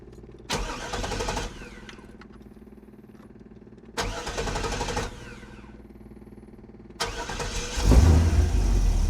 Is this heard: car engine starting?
yes